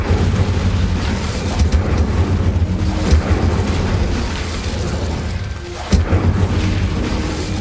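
Incendio fire spell in Hogwarts Legacy, a low rumbling roar of flame with several dull bursts and a sharper pop near the end, loud and steady throughout.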